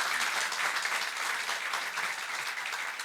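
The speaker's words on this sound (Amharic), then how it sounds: "እባካችሁ አጨብጭቡለት።" An audience at a book launch breaks into sustained applause, a dense, steady wash of clapping that holds evenly throughout with no voices rising above it.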